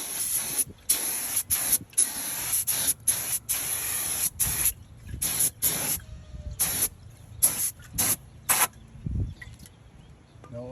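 Short bursts of a spray bottle during mobile car detailing, about a dozen sharp hissing squirts in uneven rhythm with brief pauses, close and fairly loud, no talking.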